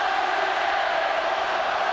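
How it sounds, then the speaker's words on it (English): St Helens supporters roaring at the 1999 Super League rugby league Grand Final against Bradford Bulls, a dense, steady wall of crowd noise sustained without pause. "Well, listen to this crowd."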